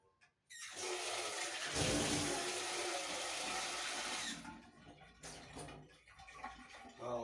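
Water pours steadily from a tap into a cooking pot for instant pancit canton, a loud close rushing stream lasting a few seconds that then drops to a fainter trickle.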